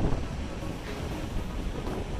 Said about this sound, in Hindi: रास्ते के साथ साथ अलकनंदा नदी का कलकल करता स्वर आपके कानों